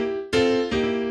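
Two struck piano chords of a blues riff in C, the second following about half a second after the first, each ringing bright and sustained, close and quiet with no talking.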